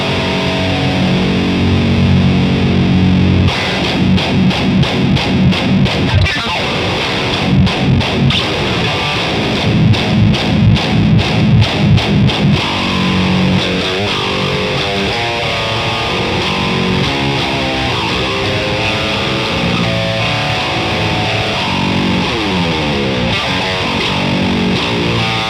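Heavily distorted electric guitar through a Kemper Profiler running a Fortin Giant amp profile, loud and saturated: a few choppy, rhythmic chord stabs at first, then a long sustained chord left ringing with no talking.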